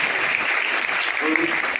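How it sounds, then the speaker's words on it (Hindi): Audience applause, steady and continuous throughout the short stretch, moderately loud, with a brief voice briefly surfacing near the end. "तो एक बार ममता के लिए जोरदार तालियां हो जाए"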